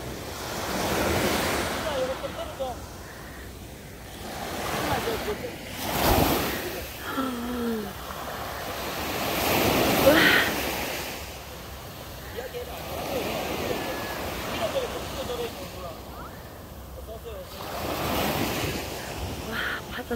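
Ocean waves rolling onto Haeundae beach in Busan at night, swelling and breaking in repeated surges every few seconds, with wind buffeting the microphone and faint voices now and then beneath the surf.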